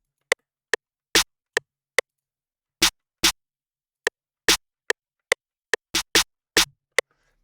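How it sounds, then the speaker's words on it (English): A simple snare pattern programmed in an FL Studio beat: crisp, dry, close snare hits in an uneven rhythm, some short ticks and some fuller cracks, about a dozen and a half strikes with silence between, no voices. "I came in, I added this snare sound that sounds like this."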